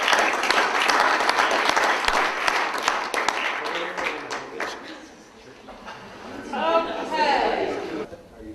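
A conference audience at a Rotary Club gathering breaks into loud, dense applause that fades out after about four seconds, followed by people talking and laughing.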